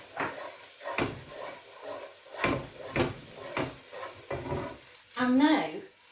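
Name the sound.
stirring ginger, garlic and green chilli in a pan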